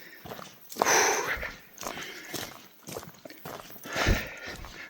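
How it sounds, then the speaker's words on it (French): Dogs bark outdoors, a run of rough, overlapping barks rising and falling over a few seconds amid open-air noise, with soft footstep-like thumps mixed in. "J'entends des chiens gueuler."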